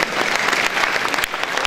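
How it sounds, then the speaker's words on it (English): An audience at a Lagos at 50 event honouring Asiwaju Olorunfunmi Bashorun breaks into a brief, dense burst of applause, a loud steady patter of many hands with no voices. "Another round of applause."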